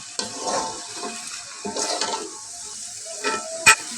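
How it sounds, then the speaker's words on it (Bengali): Salted hilsa bharta being stirred and fried in a pan, giving short bursts of close sizzling and scraping between quieter gaps, with a sharp clink near the end. "একটু নেড়ে চেড়ে ভাজা ভাজা করে নেব"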